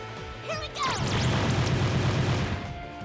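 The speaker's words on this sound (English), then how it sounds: "We're going to go barrage from behind" A barrage attack in the video game Conception 2, with sweeping whooshes and a rumbling burst of impacts that swell into a sustained, close, loud roll of game effects before fading.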